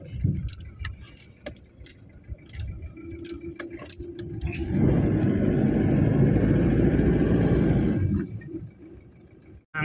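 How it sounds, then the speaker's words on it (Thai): A car climbs uphill in low gear on a narrow road toward Doi Pui in Chiang Mai, its engine a low droning hum that swells into a loud strained roar midway and then drops back, with ticking and rattling throughout. "ใช้เกียร์ต่ำ"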